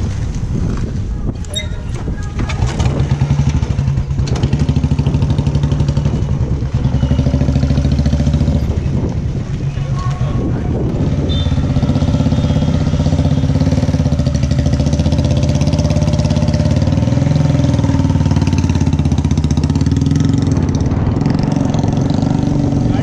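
A Royal Enfield Bullet motorcycle engine thumps steadily under load while pulling a 1.3-ton SUV, loud and continuous with some wind noise across the microphone.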